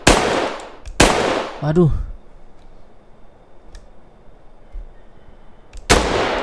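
Video game gunfire aimed at a Titan: loud broadband bursts of shots at the start, again around one second, and near the end, with a brief exclaiming voice and quieter background between volleys.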